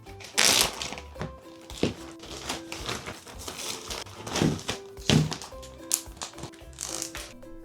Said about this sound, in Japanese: そしてこちらの大きいボトルたちは万が一漏れた時のことを考えてジップロックに